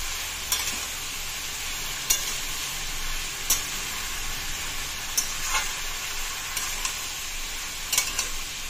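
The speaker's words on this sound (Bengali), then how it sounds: "নুন আর মশলাগুলো দিয়ে দিয়েছি, এবারে নেড়ে চেড়ে নিচ্ছি।" Tomato and capsicum with salt and spices being stirred in a frying pan, a steady sizzle broken by sharp spoon scrapes and taps at irregular intervals, close and fairly quiet with no talking.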